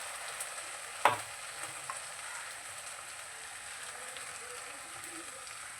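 Ginger-garlic paste and spices fry in a pan for a yogurt-based katla fish curry, a soft steady sizzle with one sharp knock of a spoon early on and faint stirring.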